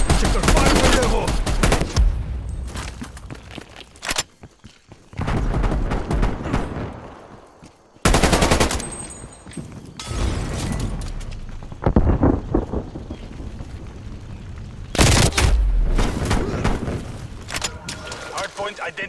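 Assault rifle gunfire in a multiplayer shooter game, several loud bursts of rapid shots separated by quieter stretches, with voices and game announcements mixed in.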